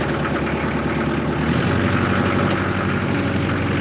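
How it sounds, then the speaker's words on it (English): A digger's engine idles with a steady low rumble, then its revs rise partway through to lift the bucket against a weak hydraulic pump; the sound is close and continuous, with no talking. "You got to get the RPM up to even raise the bucket because the pump is so weak."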